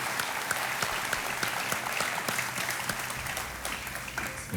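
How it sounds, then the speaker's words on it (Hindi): A studio audience on the KBC game show applauds warmly, a dense and even burst of clapping that stays loud throughout and tapers slightly near the end. "बहुत बहुत तालियों के साथ इनका हम स्वागत करते हैं।"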